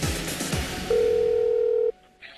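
A telephone call to an online seller in a Korean TV report: a single steady ringing tone holds for about a second over a faint background, then cuts off.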